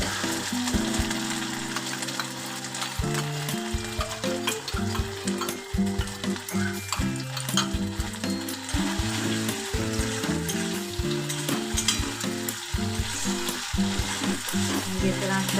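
A sauce mixture for chilli gobi, cauliflower in a hot pan, sizzles and fries loudly and steadily throughout, with constant crackling close up and no talk.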